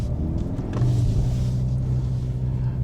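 Mercedes-AMG engine pulling hard during a drift, a loud continuous low roar that swells as the throttle opens, with no voices.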